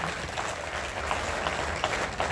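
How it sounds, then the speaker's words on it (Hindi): Audience applause at a Gandhi festival play and poetry gathering (kavi sammelan) in Ajmer: dense, steady clapping from a crowd, sustained throughout with small surges, a few faint voices underneath. "एक बार तालियां इकट्ठी बजा दो तो लगे कि हाँ खड़े हैं।"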